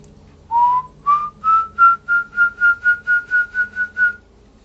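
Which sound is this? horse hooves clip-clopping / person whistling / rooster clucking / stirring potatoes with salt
person whistling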